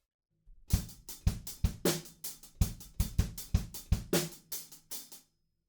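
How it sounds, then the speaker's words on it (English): A drum beat alone: steady crisp hi-hat strokes in a quick even pattern, punctuated by kick and snare hits, close and clear. "We've got the 16th notes playing on the hats, and that goes like this."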